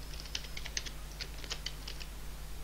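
Computer keyboard keys tapped in short irregular bursts while typing in MS Word, crisp close clicks over a steady low electrical hum, with no talking.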